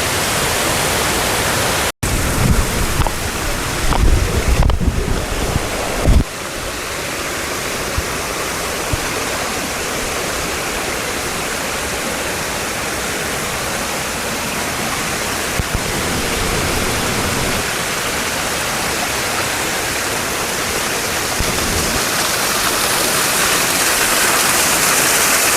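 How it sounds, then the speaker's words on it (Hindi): A waterfall pours in a dense Chitrakoot forest, its steady, full-bodied roar of rushing water filling the scene evenly for the whole stretch, with a few brief knocks early on. "यहाँ तो झरना चल रहा है, जल बह रहा है"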